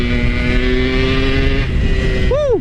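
Yamaha RX King two-stroke motorcycle fitted with a Boban C33 exhaust, revving loud and close with a steady buzzing drone, then a sharp rising and falling rev burst near the end.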